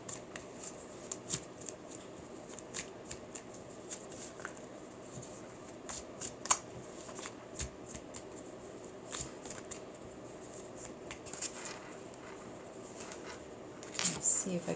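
Tarot card deck handled and shuffled by hand, a steady run of soft papery riffles and light snaps with brief crisp card flicks scattered throughout, close and fairly quiet.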